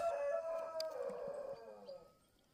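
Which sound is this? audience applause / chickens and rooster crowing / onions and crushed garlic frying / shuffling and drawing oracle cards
chickens and rooster crowing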